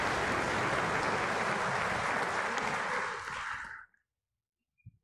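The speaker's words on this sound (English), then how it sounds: "Please give them a round of applause at this time." Sustained applause fills a graduation ceremony hall, loud and steady for several seconds before fading out into silence, with a brief soft sound at the end.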